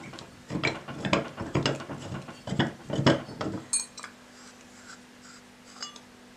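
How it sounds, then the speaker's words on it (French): Metal chandelier parts are unscrewed by hand, giving a close run of rhythmic clicking and grinding thread ratchets with faint metallic clinks, then a quieter pause with a low hum. "Maintenant, on dévisse."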